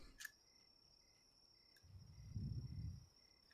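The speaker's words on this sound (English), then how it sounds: "that's some serious crickets" Crickets chirp in a steady, continuous high trill that carries through the whole stretch, alongside a faint low rumble near the middle.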